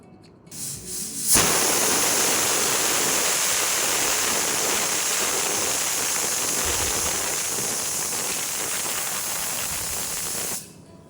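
Loud, continuous hiss of steam jetting from a pressure cooker whistle while cooking mutton biryani on medium heat, starting abruptly and holding steady for about nine seconds before cutting off.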